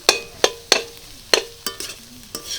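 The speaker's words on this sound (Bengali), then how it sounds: "মশলার সাথে আলুগুলোকে কষিয়ে নেবো একটু ভালো করে" Boiled potatoes are sautéed with spices, without onion or garlic, in a pan for vegetarian chops. A spatula strikes and scrapes the pan in about eight sharp, close taps over a faint sizzle.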